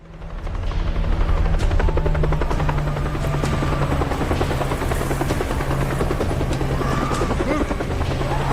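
Helicopter in the video game Dead Rising, a loud steady rotor thrum with a low pulsing beat running throughout, close and continuous with no speech over it.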